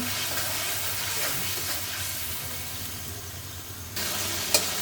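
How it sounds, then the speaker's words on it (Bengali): A spice paste of sliced green chilli, turmeric, chilli powder, coriander powder and salt sautés in a pan, giving a steady, close sizzle with faint stirring and a small clink near the end. "মশলাটা এখন ভালো করে একটু কষাই নেব।"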